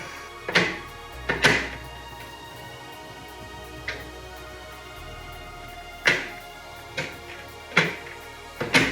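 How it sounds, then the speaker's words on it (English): A plastic door frame is pushed into a toy dollhouse, giving several sharp plastic clicks and snaps spread irregularly over a quiet background, close and fairly crisp. "let's pop this door frame right in here. There you go, it clicked."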